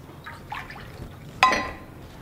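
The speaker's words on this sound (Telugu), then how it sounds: "పచ్చిమిర్చి ఉడికించుకోవడానికి సరిపడా నీళ్ళు వేసుకుందాం." Water poured into a cooking pot on a stove, ready for boiling green chillies, with a few soft trickles followed by one brief, sharp splash.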